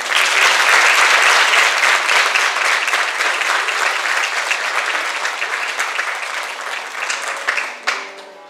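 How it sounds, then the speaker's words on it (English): Audience applause at the Junior Miss Pocomoke 2021 pageant, a loud sustained wash of clapping that gradually thins out toward the end, with a few final claps trailing off. "please give our new Junior Miss Pocomoke a round of applause."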